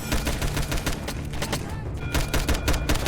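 Rapid gunfire in a Roblox airport game: loud, dense bursts of automatic shots crackle almost nonstop, with brief gaps between volleys.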